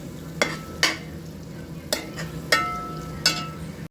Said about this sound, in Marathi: जे मी हे मॅरिनेट केलेले कोळंबी आहे ती टाकून घेणार आहे मस्त याला मिक्स करते